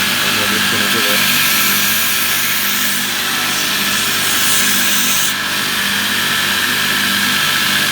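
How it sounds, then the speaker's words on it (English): A sander grinds a rounded tip onto a tungsten TIG electrode spun in a drill, a loud, close, continuous abrasive whir with a steady rushing hiss throughout. "it's naughty, but I take the electrode and pop it in the drill"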